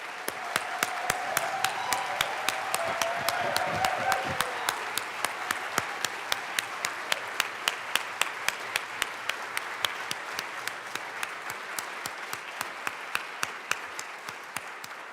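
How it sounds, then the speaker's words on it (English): A rousing round of applause in the Colorado House legislative chamber, many hands clapping in a dense, sustained burst, loudest at first and then continuing steadily with sharp individual claps standing out, with a voice briefly speaking early on. "Please join me in a loud, rousing round of applause."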